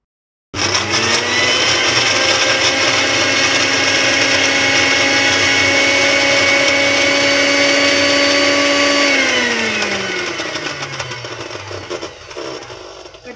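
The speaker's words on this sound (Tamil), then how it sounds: "மிக்ஸி ஜாரில் போட்டு இதை நல்லா கிரைண்ட் பண்ணி எடுக்க போகிறேன்." A loud mixer grinder grinding ginger whirs at a steady high pitch for about ten seconds, then its motor winds down as the drone fades away.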